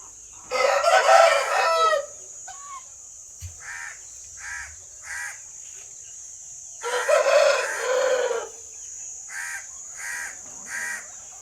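Guinea fowl fighting during breeding give harsh, loud bursts of calls, first two long raucous outbursts and then a rhythmic run of shorter repeated calls, over a constant high-pitched background whine.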